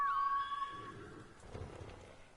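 A horse whinnies loudly at first in the video game Ghost of Tsushima, followed by softer rustling and low snorting noises.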